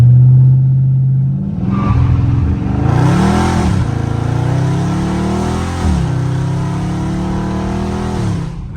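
Manual-shift Dodge Charger Scat Pack launching from a stop in traffic, a loud close engine revving hard and pulling through rising gears with brief dips at each shift.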